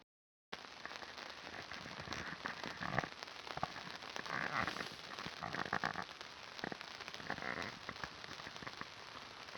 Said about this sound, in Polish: a deszcz cały czas pada. Jak słychać